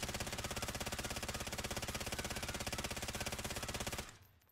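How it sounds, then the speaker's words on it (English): Sustained fully automatic gunfire in Call of Duty: Modern Warfare, a fast, even stream of loud shots held for about four seconds with the recoil left uncontrolled, then cutting off into a brief fading tail. "This is just the recoil without me controlling it."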